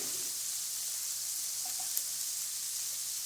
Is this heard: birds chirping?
no